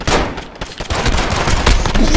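Rapid bursts of gunfire from a weapon in Modern Warfare ring out in quick succession, loud, close and chattering like automatic fire, with no speech.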